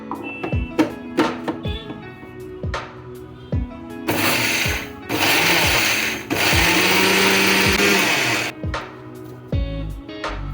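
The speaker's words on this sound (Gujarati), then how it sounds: "નાનું મિક્સર જાર હોય એ ચટણીના જારમાં આપણે એને ક્રશ કરવાનો છે." A small chutney jar of a mixer grinder crushes cumin, black pepper, coriander-cumin powder, salt and black salt for pani puri masala, running in loud whirring pulses separated by brief pauses and jar clunks.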